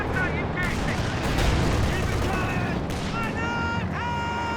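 Artillery and gunfire in the Company of Heroes 2 strategy game, a dense stretch of booming blasts and crackling shots layered with battle effects.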